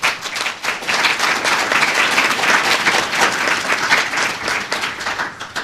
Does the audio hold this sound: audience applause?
yes